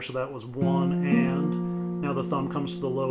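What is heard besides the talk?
None of the usual background noises is heard.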